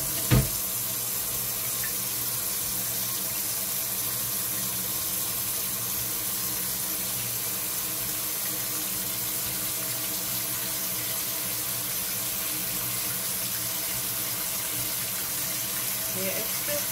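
Tap water gushes steadily into a kitchen sink while seitan dough is washed, a continuous even rush with a brief knock at the start and no pauses.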